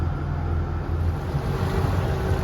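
Sailboat motoring with no sails up, its inboard engine idling along at 1,800 revs, a steady low rumble mixed with wind and water noise, continuous and close.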